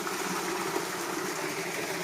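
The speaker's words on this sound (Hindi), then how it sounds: "पानी बह रहा है" A mountain stream flows through hilly village country in Nowshera, Khyber Pakhtunkhwa, making a steady, moderately faint rushing wash of water that holds even throughout with no voices.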